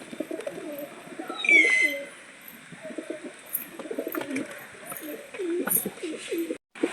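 Pigeons kept in pairs coo in low, soft, repeated phrases close by, with a brief higher chirp early on and a faint voice now and then.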